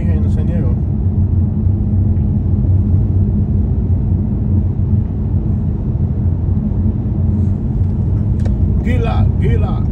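A car cruises along Interstate 8 through the desert with a steady, loud road rumble and engine drone throughout, while people talk over it.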